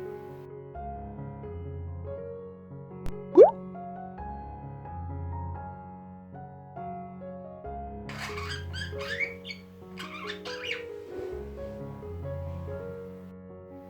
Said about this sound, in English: Monotone chatter budgie.